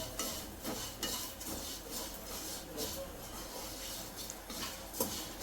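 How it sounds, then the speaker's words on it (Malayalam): Flattened rice (aval) is tipped into a pan that already holds cardamom and is stirred with a spoon, giving soft repeated scraping and clinking strokes over a steady background hiss. "ഇതാ ഈ അവല് നമുക്ക് അതിലേക്ക് ഇട്ട് കൊടുക്കാം"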